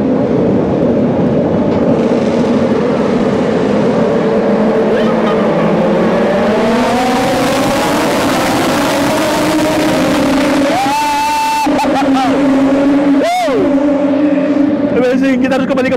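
MotoGP race motorcycles, including a Gresini Racing entry, roar along the track in a loud, continuous engine wail with rising and falling pitch as bikes pass close by, while people talk over the noise.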